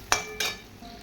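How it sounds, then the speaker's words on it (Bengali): Fried pointed gourd, potato and prawns being stir-fried in oily masala, with two quick scraping stirs of the spoon through the sizzling pan, then a faint steady simmer. "এবার দিয়ে দেবো ভেজে রাখা পটল আলু, চিংড়ি মাছ দিয়ে ভালো করে কষাতে হবে।"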